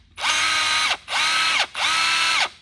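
A Milwaukee M18 brushless cordless impact wrench whirs loudly in three bursts, each about three-quarters of a second long, with brief gaps between them and a high, steady whine that winds down at the end of each burst.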